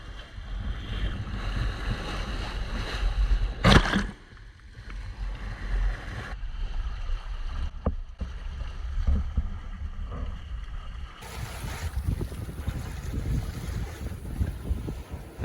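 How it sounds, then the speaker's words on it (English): Wind and water roar steadily around a sailboat under way on the open sea, with heavy wind buffeting against the microphone, a sharp knock partway through and a shift in tone later on. "Windflower was sailing just as well as she always does"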